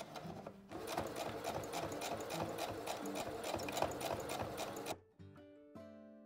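Sewing machine stitching over the pleats of a cloth face mask with elastic, a fast even mechanical rattle for about four seconds that stops abruptly and leaves a faint ringing tone and quiet handling.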